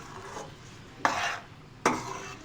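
Kofta gravy with onion, tomato and coconut is stirred and fried in a pan, giving two distinct scraping sweeps over a soft, steady sizzle, close and fairly quiet.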